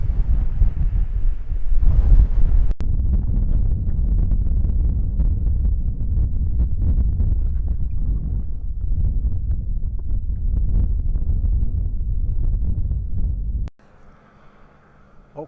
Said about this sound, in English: Still damn windy though.